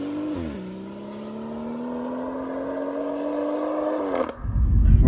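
A 500bhp BMW M140i with chassis upgrades drives along, its engine holding a steady mid-pitched drone that dips briefly early on, then a louder rumble and wind buffeting at the end.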